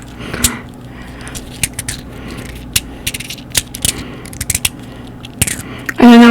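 A fidget clicker toy with small woolly bits on it is clicked by hand nearby. Sharp, irregular single clicks are spaced through the stretch, and a louder rattling burst comes at the very end.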